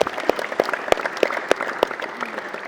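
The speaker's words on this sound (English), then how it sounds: "Of course, an applause." A small audience claps after a question-and-answer session with a German world-class badminton player, a sparse, fairly close patter with a few sharp, separated claps in an uneven rhythm.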